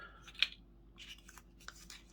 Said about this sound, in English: So we can use the scissors